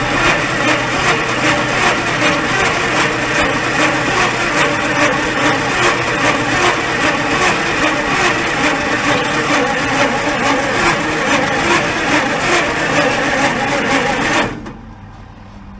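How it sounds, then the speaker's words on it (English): A 1950s Rolls-Royce engine cranks over steadily without catching, a loud rhythmic mechanical whir churning for about fourteen seconds before it cuts off abruptly to quiet. "Man, spinning over pretty good now, but still just not getting the fire I want."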